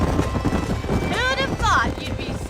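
Horse hooves clip-clopping in Red Dead Redemption while breaking a bronco, a steady galloping patter under game music and a voice speaking over it.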